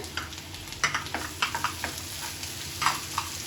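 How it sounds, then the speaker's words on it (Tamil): Ripe chopped tomatoes sautéed with garlic cloves in a pan for black urad dal chutney: close, steady sizzling with repeated scraping and clinking stirs throughout. "தக்காளி போட்டு நல்லா வதக்கி விட்டுக்கோங்க"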